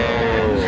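A bull calf at a cattle market lets out one loud, sustained moo that fills the whole short moment, close by and with no talking over it.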